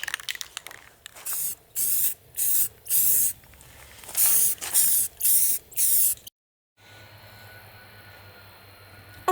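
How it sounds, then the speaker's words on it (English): Short bursts of black spray paint hiss from an aerosol can, about nine quick sprays in a row, close and sharp, while painting the inside of a small pet bed, followed by quiet background noise. "Now I'm just going to paint the inside black."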